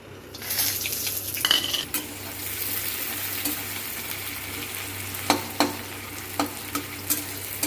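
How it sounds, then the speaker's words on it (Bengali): Cumin, garam masala and a dried chili crackle in hot oil for an egg curry, a close sizzle with an early burst and then sharp, irregular stirring clinks. "এখন আমি ফোড়নের জন্য নিয়ে নিয়েছি একটুখানি জিরে, গরম মশলা আর একটা শুকনো লঙ্কা, সেটা আমি দিয়ে দিচ্ছি।"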